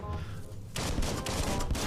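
Gunfire in the video game Biomutant erupts after a quieter opening, a dense burst of rapid shots in a sustained fusillade that continues loudly to the end.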